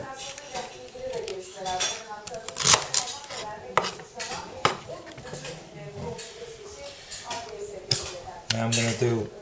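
Celery gets chopped with a SOG Seal Pup Elite knife, producing irregular sharp cuts and knocks against a board mixed with clinks of kitchenware, while someone talks intermittently over the work.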